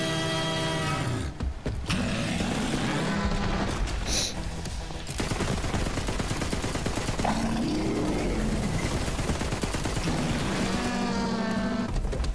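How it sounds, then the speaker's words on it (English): Sustained automatic gunfire rattles through a Borderlands 3 boss fight, dense and loud bursts running nearly the whole time with engine-like game sounds underneath. "and then you can start shooting him again"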